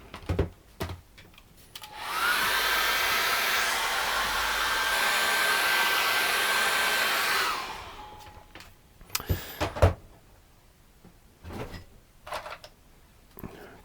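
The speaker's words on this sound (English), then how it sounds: "I'm going to run my hairdryer over that" A hairdryer blows steadily for about five seconds over wet acrylic paint on a canvas, with a whooshing hum framed by handling clicks and taps before and after.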